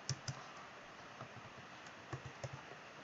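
Keystrokes on a computer keyboard while working in Android Studio, a few scattered clicks close by and fairly quiet, with short pauses between taps and no voices.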